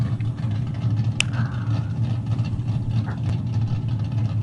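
A car engine drones steadily in the CarX racing game with diesel injection, a low continuous hum with a faint rev rising at one point, no talk over it.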